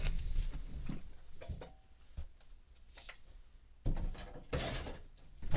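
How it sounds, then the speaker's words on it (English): A door is shut in a quiet room, giving a handful of soft knocks and bumps, with a louder rattling clatter near the end; no one talks. "Sorry, I had to close my door."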